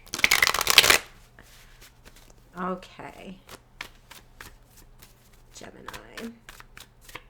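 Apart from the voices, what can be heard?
tarot cards being shuffled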